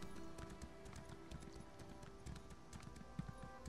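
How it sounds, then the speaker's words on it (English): Hooves clip-clop steadily as a horse is ridden in the video game Elder Scrolls Online, an even rhythmic trot, faint and close, with no talking. "So we're going to turn this horse around and go that away somehow."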